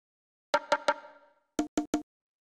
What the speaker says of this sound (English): these congas, which sound like this